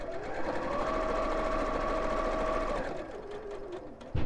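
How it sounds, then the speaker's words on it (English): A sewing machine stitches around a fabric edge, running in a steady whirring hum with a fast mechanical chatter for about three seconds before slowing and stopping, followed by a soft clunk. "I'm just going to stitch all the way around the edge, quite close to the edge."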